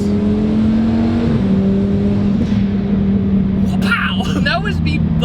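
Twin-turbo 1350 hp Lamborghini Huracán Performante under hard acceleration, a loud, close engine drone climbing in pitch through the gears with a shift near the end, while a person talks over it.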